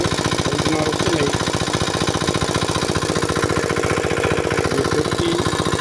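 A borewell water pump engine runs steadily in a farm field, a close, loud, even mechanical chug throughout with no talking.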